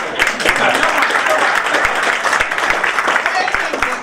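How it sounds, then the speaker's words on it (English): Audience applause at a birthday celebration for a state senator turning sixty, with dense, steady clapping from a crowd and a voice speaking over it throughout. "come on, you can clap a lot louder"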